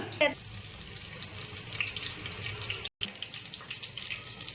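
Curry leaves drop into hot cooking oil with a sharp burst of crackling, then settle into a steady hiss, broken by a moment of silence.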